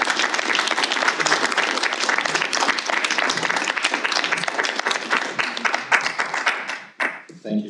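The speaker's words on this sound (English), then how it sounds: "Let's have a round of applause for our candidates." Steady, dense applause from the audience at a March 2022 candidate forum, honoring the candidates, sustained for about seven seconds before trailing off abruptly into a brief pause and stray sounds.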